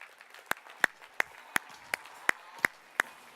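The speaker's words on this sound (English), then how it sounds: "A big round of applause for Perry Belcher." Applause from a small audience at a marketing talk, sparse sharp claps spaced roughly evenly, fairly faint over a quiet room.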